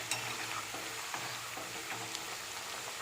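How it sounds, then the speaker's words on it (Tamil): Tapioca chips frying in groundnut oil, a steady soft sizzle and crackle with faint bubbling close by, no voices. "கடலெண்ணெய் யூஸ் பண்ணி பொரிக்கிறேன்"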